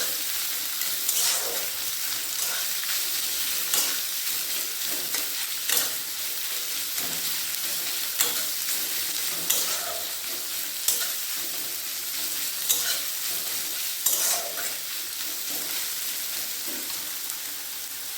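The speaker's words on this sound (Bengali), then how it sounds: "মিহি করে কুচি রেখেছি পেঁয়াজ পেঁয়াজগুলো ভালোভাবে ভেজে নেবো" Finely chopped onions frying in hot oil for chicken curry, a constant close sizzle with periodic sharp scrapes and stirs of a spatula through the pan, no voices.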